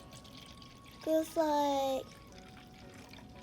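Vinegar poured into a cup gives a short liquid trickle of about a second, briefly interrupted, close and moderately loud, with quiet talk around it.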